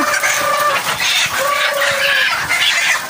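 Laying hens in a henhouse cluck noisily all at once, a loud, steady jumble of overlapping calls with a few drawn-out squawks rising above the crowd, close and unbroken.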